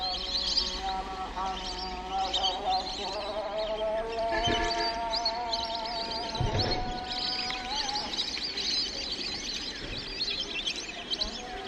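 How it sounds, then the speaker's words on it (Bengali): Migratory winter birds in Manikganj, Bangladesh, chirping and calling in a busy mixed chorus at moderate distance, with a faint outdoor background. "কত সুন্দর দেখা যায় কিচিমিচি পাখিগুলো"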